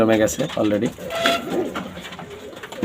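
Teddy pigeons sitting on eggs give soft, rounded cooing calls close by while someone talks over them.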